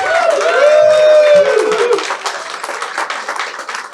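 Audience at a 3D printing magic show gives a loud burst of applause and clapping over a sustained tone that fades after two seconds, leaving scattered claps and crowd noise.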